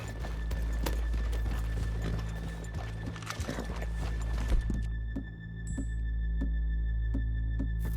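Horse hooves clip-clop steadily on a town street in the video game Red Dead Redemption 2, a regular rhythmic walking pattern close by, with a brief whinny and faint game ambience underneath.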